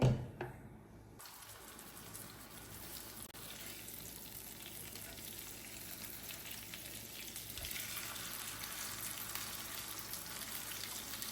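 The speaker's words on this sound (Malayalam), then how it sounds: "ഇപ്പം നമുക്ക് കരിമീനൊന്ന് ഫ്രൈ ചെയ്തെടുക്കാം. വെളിച്ചെണ്ണയിലിട്ടാം ഫ്രൈ ചെയ്തെടുക്കേണ്ടത്." Pearl spot fish (karimeen) frying in coconut oil in a pan with curry leaves, a steady close sizzle and crackle that builds after a brief quieter start and continues without talk.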